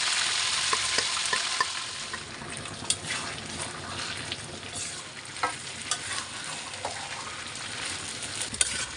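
Meat frying and being stirred in mustard oil with browned fried onions for Bengali kala bhuna, a steady close sizzle with repeated scraping stir strokes throughout.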